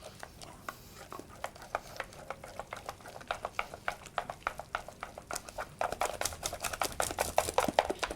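Egg being stirred into thick choux pastry dough in a bowl: a steady run of quick wet slapping and scraping strokes, close and fairly faint, growing denser and louder toward the end, with no talk.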